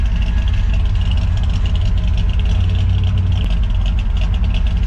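A high-compression Ford F100 engine idles steadily with a deep, continuous low rumble, close and loud throughout, with no talk over it.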